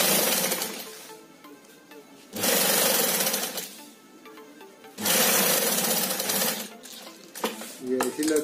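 A sewing machine stitches white piping onto a handmade fabric shopping bag, running in several loud, fast whirring bursts of a few seconds each, separated by quieter pauses with light handling noise.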